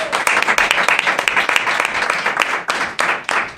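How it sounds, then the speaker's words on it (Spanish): An audience at a live Spanish book-and-mountain event breaks into loud, sustained applause, many hands clapping densely and close for several seconds. "Un aplauso para ella."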